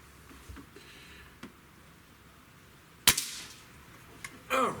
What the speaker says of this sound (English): shot number 1.